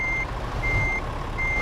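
A reversing truck's warning beeper in the Euro Truck Simulator 2 driving game sounds three steady, evenly spaced beeps over a continuous low engine rumble, with no talking.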